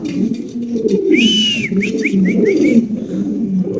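Pet pigeons coo nearby at a pigeon seller's, soft throaty calls rolling in a low rhythm, with a bright whistle-like chirp sequence in the middle and constant cooing throughout.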